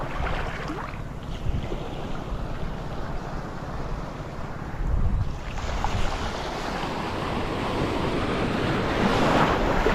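Waves break and churn at sea under a steady wash of wind noise, a continuous roar heard close from a fishing boat with no talking.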